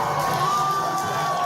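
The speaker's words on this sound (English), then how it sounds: "Listen to this crowd" Crowd at a PPW wrestling match cheers and shouts continuously, a dense, loud roar with high-pitched whoops and children's shouts, sustained throughout without speech.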